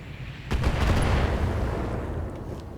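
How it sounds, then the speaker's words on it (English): An LRM-5 missile launcher fires in the BattleTech video game: a booming volley swells up at once, then rumbles and slowly fades, with no talk over it. "Here comes the LRM-5 launcher."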